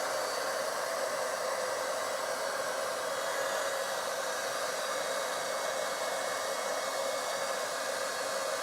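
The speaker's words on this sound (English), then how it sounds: "first we're going to go just straight heat emboss this one" Heat embossing tool warming texture paste, a steady whooshing blower hum like a small hair dryer, constant and unbroken at a moderate level throughout.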